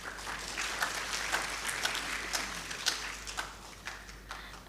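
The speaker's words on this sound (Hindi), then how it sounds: "इसके लिए ज़रा तालियां बजा दें।" Audience applause at a literature festival in Sukkur, Sindh: steady clapping from a seated crowd, sustained and fairly even across the whole stretch with scattered sharper individual claps.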